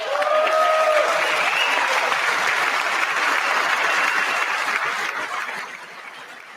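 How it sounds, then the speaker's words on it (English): Congressional applause during a State of the Union address, a dense sustained clapping from a large chamber crowd, loud and even before tapering off near the end, with a brief voice at the start. "I wasn't sure if anybody even on this side was going to applaud for that."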